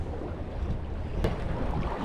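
Steady wind buffets the microphone on a small fishing boat on choppy water, a continuous low rumbling rush with no voices.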